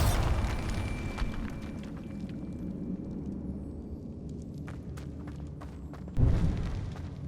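A Bombarda blasting spell goes off in Hogwarts Legacy with a loud burst, then a long rumbling decay, and a second thumping blast lands near the end.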